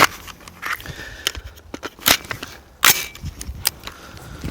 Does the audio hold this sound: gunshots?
yes